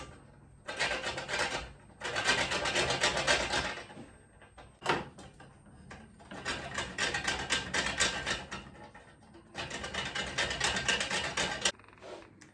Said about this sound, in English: So I'm just going to be grating just a tiny bit